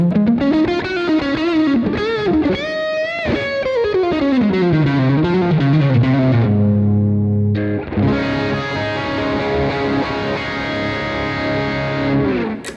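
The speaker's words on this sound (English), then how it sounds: "Let's try some distorted sound." A heavily distorted electric guitar, played through a Torpedo CAB M amp simulator, plays a bending lead line, then settles into a sustained, crunchy chord that rings out loudly.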